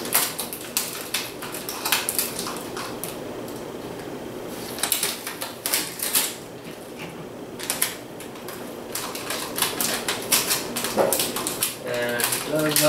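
Tape is pulled and pressed along the sides of a cut plastic bottle for a homemade mosquito trap, producing a close series of sticky crackles, rips and taps in an irregular rhythm.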